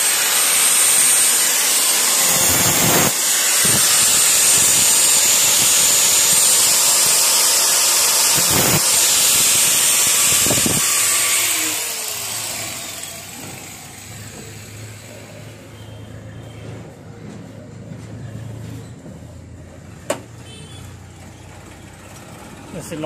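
An angle grinder cuts into a part on a Maruti Suzuki Eeco. It makes a loud, sustained high whine for about ten seconds with brief bursts, then drops to a quieter hum with faint clicks.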